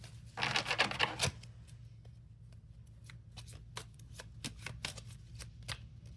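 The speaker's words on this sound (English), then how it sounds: "Let's do one more shuffle." A deck of tarot cards shuffled up close, a dense riffle burst followed by scattered soft flicks and taps as cards are handled, with no talking.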